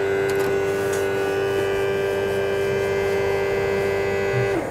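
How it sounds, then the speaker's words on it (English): An electric vacuum pump in a VW Bus electric conversion hums steadily with a constant droning tone and faint mechanical buzz, running without pause throughout. "Vacuum pump."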